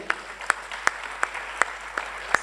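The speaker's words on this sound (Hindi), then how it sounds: "उम्मीद करते हैं आपकी ताली की ताकत भी और बढ़ती जानी चाहिए" Audience clapping at an award ceremony honouring JP movement veterans in Patna, Bihar, heard as a steady wash of applause with sharper individual claps standing out at regular intervals, moderately loud and without talk.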